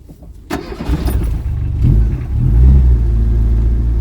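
A cold, hand-choked Reliant Robin engine cranks and catches after about half a second, then runs roughly with rising revs and a louder surge toward the end, close up with no talk.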